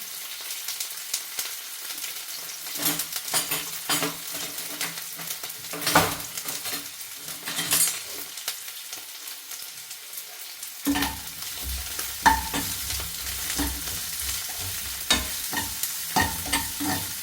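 Potatoes fry and are stirred in a pan after onion, ginger and garlic go in: rhythmic scraping and clattering of a spoon against the pan over a sizzle that thickens partway through, with no talking.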